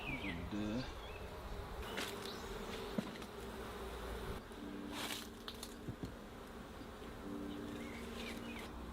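Honey bees hum steadily around backyard beehives in a soft, continuous buzz that carries on for several seconds, with occasional faint background knocks and rustles.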